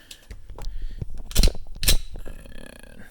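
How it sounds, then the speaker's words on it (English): Glock pistol lifted out of a Secure it Fast Box 47 gun safe, heard as a series of close, sharp clicks and clacks of metal and plastic, with two louder knocks amid lighter handling sounds. "I will take my Glock out real quick"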